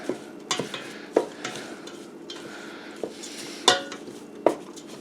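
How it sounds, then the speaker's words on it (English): A utensil scrapes and clinks against a pan at a steady pace while ingredients are gently stirred and toasted for beef tips and gravy, with sharp knocks standing out from a soft bed of light sizzle. "And just kind of gently stir it around. We're just going to kind of toast it."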